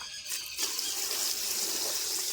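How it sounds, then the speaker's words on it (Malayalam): Hot water is poured into a container holding salted ingredients for homemade wine, a brief splash-in followed by an even, steady stream of liquid filling the vessel, close by and with no talking. "ഞാൻ ഈ വെച്ചിരിക്കുന്ന ചൂടുവെള്ളമാണ് അപ്പോൾ അതിനകത്തോട്ട് അങ്ങ് ഒഴിക്കുക"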